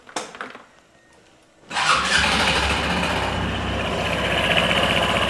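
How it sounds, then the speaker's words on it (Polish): A Honda S-Wing 125 scooter engine cranks briefly, then starts and settles into a steady, loud, close idle with a continuous rumble. "Silnik pracuje bardzo fajnie, cichutko"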